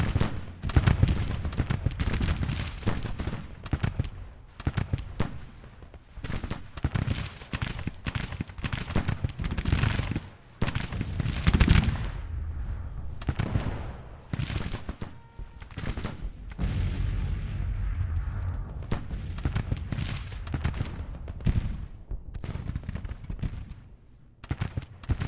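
Grand Tactician The Civil War battle: continuous rolling gunfire and artillery, sharp volleys and heavy booms overlapping densely for the whole stretch, loud and close with brief lulls.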